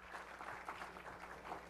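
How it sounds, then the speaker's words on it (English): Applause from a seminar audience at a funeral home, a faint steady patter of clapping from a modest crowd. "join me in a round of applause for John and Frank for a great job."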